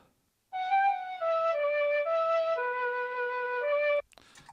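A clean guitar loop played solo without any pedal: a steady run of sustained melodic notes, clear and moderately loud, after a brief silence and ending abruptly.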